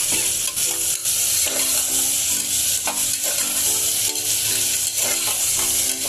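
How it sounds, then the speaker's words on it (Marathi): Cashews and almonds sautéed in oil within a potato vegetable curry, a close, loud sizzle punctuated by repeated scraping strokes of a spoon stirring the pan, with no one talking. "इथे काजू आणि बदाम ते पण मी आता या भाजीत परतून घेते"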